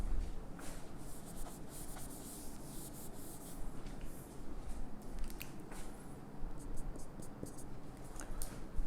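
Someone writes out a definite-integral math solution, producing a continuous scratchy, rubbing stroke sound with short bursts of quick marks, close and fairly steady throughout.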